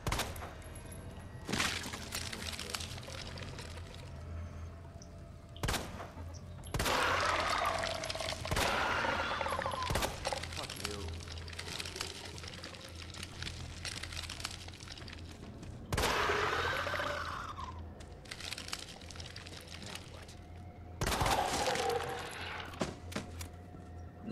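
Gunfire in the video game Resident Evil 2 comes as sharp, separate shots and short bursts scattered across the stretch, loud against a quieter game background, with players talking between shots.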